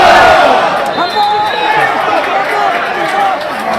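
Football crowd at a Tamworth FC versus FC United of Manchester match roars and shouts in reaction, loud and close, with a commentator's voice carrying over the surging noise.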